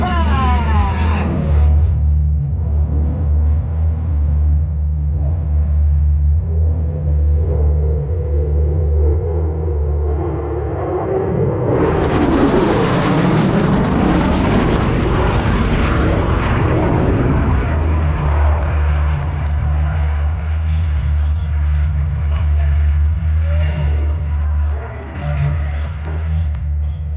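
Lockheed Martin F-22 Raptor jet making a high-speed flyby at the Orlando air show, a loud roaring swell that rises around the midpoint and fades, over steady low rumble and crowd ambience.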